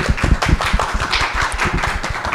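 Steady clapping from an audience at an art fair talk, a dense patter of hands that continues at an even level throughout.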